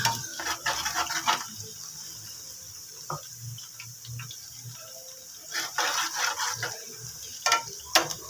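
Onions and cumin fry in a pan with a soft steady sizzle, broken by intermittent stirring scrapes and clinks of a spoon against the metal, fairly close and without voices.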